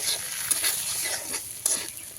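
Bottle gourd pieces fry in a pan with a continuous close sizzle, broken by a couple of sharp spatula scrapes as they are stirred.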